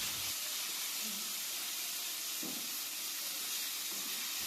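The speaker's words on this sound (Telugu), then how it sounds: "ఇవన్నీ బాగా వేగిన తరువాత చివరిగా కొద్దిగా కరివేపాకు మరియు కొత్తిమీరను వేసుకుని" A tempering of asafoetida, dried red chillies and curry leaves frying in hot oil for a cabbage-tomato chutney, making a loud, steady, close sizzling hiss throughout with no talk.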